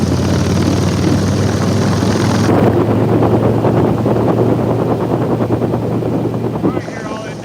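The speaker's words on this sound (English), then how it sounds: "Right here, all that damn wind." Strong wind buffets a microphone outdoors on a sunny day, a loud, constant rumbling roar that fills the whole stretch with only slight changes in intensity.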